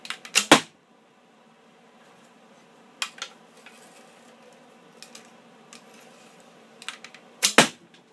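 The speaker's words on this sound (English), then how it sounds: "now I'll show you the arrows being shot" Wooden arrows without tips are loosed from a homemade oak compound bow, heard as a few sharp clacking snaps spread over several seconds, with faint rustling between shots and no talk.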